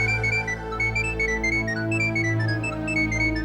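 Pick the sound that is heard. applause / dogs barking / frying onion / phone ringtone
phone ringtone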